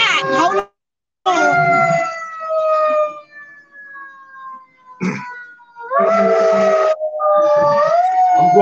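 A wailing siren with long gliding tones rises and falls in several bursts, fairly loud, broken by short gaps and a sharp knock midway.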